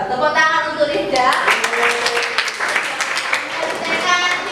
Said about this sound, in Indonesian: Tepuk tangan untuk Rifda.